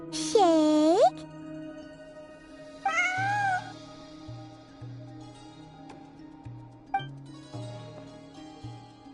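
A cat in Genshin Impact gives two clear, drawn-out meows, the first loud and close, the second softer, over gentle game music.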